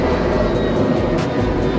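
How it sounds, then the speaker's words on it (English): Airplane roaring overhead near an airport, a loud broad steady rumble filling the moment without voices. "It's an airplane."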